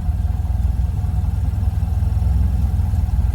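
A Model A Ford engine runs at a steady, loud, throbbing low pitch as gas is added while the car pulls off on an incline, with no voices over it.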